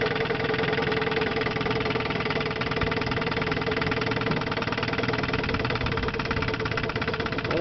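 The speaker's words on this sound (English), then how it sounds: "it's a nice little fishing motor" A 1958 Johnson CD-15 5.5 hp outboard motor runs at a steady, even idle, with a smooth, continuous buzzing hum up close and no speech.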